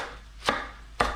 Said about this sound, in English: Give it a real rough chop.